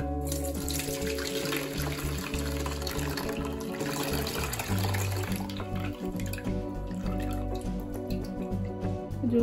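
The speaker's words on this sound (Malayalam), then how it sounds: "ഇതൊന്ന് നമുക്ക് അരിച്ചെടുക്കാം." Blended orange and mint juice dripping through a strainer, a continuous patter of liquid falling, moderately loud and close, under steady background music.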